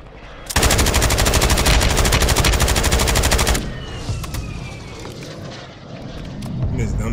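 A gun fires in a rapid, sustained automatic burst for about three seconds in a Rebirth Island shooter match, loud and close, then cuts off into quieter game ambience with voices.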